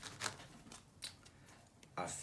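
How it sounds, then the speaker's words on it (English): Quiet papery shuffling of tarot cards, a few soft riffling bursts spaced irregularly, close to the listener with faint background noise. "I'm just going to shuffle the cards."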